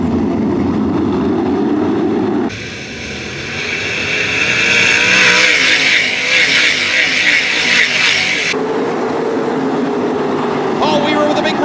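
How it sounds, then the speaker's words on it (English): 305 sprint cars race at Attica Raceway Park, their engines swelling from a quieter stretch into a loud, sustained high-pitched roar as the pack runs side by side for the lead, then easing back down, with a commentator talking throughout. "They race side by side in the 3 and 4 for the lead."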